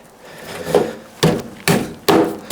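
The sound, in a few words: lumber inserted into BORA sawhorse sides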